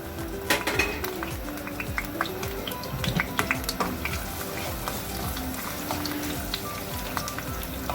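Seven or eight garlic cloves frying in a pan for garlic prawn saag, a continuous crackling sizzle with dense popping and spitting, close and moderately loud.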